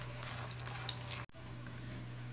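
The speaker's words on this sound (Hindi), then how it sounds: "ब्रेड को गोल्डन ब्राउन फ्राई करना है अच्छी तरीके से।" Bread frying golden brown in a pan for the Arabian sweet dish Umm Ali, a steady, moderate sizzle with a low hum beneath and a brief dropout partway through.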